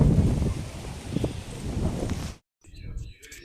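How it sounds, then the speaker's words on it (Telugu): Strong gusty wind during a sudden dust storm at the start of rain, roaring broadband buffeting over the microphone for about two seconds, then a quiet gap and softer rustling. "ఇంకా గాలి అయితే ఎక్కువైపోయిందండి"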